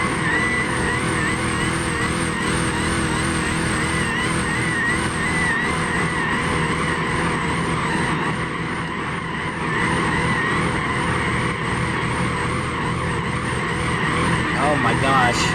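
Damaged, smoking truck in BeamNG.drive with its engine straining and tires skidding, a loud continuous roar and screech lasting throughout, close and unbroken.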